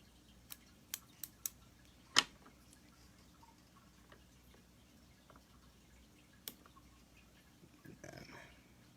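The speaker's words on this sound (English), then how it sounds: "So I'm just going to cut off the corners up here as well." Scissors snip the corners off articulated streamer material at a fly-tying bench, several short crisp clicks close by followed by a louder cut and a few faint later snips, with no talking.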